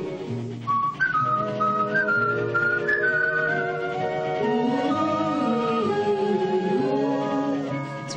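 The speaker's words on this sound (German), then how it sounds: "Pardon, pfeifen Sie weiter" Someone whistles a wandering melody, clear and fairly close, sustained for several seconds over a soft musical backing.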